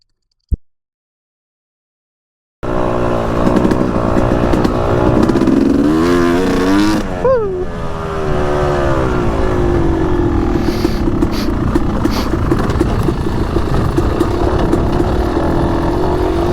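A Yamaha YZ250X two-stroke dirt bike roars up after a moment of silence. Its engine holds a loud, raspy drone with rising revs and one quick throttle dip, riding on close and constant.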